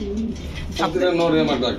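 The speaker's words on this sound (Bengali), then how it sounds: "প্রতিটা কবুতর দেখেন মার্শাল্লাহ কি সুন্দর ডাকাডাকি করতেছে" Pigeons in a loft at a Bangladeshi pigeon farm selling Iranian, Baghdadi, Siraji and other breeds, cooing and calling close by in a busy mix, with someone talking over them.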